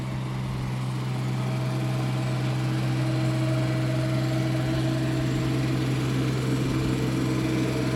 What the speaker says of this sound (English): What we're hearing is a generator.